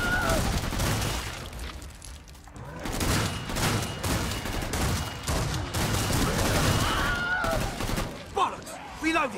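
Dense gunfire crackles through a video game 500Mag match as enemies are picked off, with repeated bursts and booms layered into a busy, loud mix.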